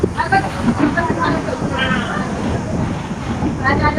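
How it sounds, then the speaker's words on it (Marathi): A Ratnagiri–Diva passenger train pulls away from the station and rolls on, a steady rumble of wheels with wind noise beneath a person talking throughout. "ट्रेन सुटले आणि आपल्या प्रवासाला सुरुवात झालेली आहे"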